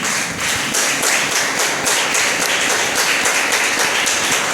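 A church congregation claps together in a dense, steady round of applause, full and close, with no talking over it.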